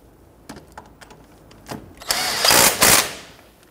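A power tool runs down the tie rod end nut on a 1992-1996 Toyota Camry during a left front CV axle job: a few light clicks, then two loud, close, whirring bursts with a brief dip between, no talking.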